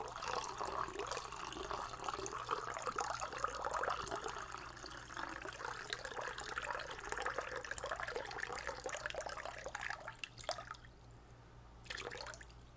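Water poured or running from a tap fills a container in a steady, close, continuous stream for about ten seconds, cutting off abruptly, with a brief splash or trickle near the end and no talking over it.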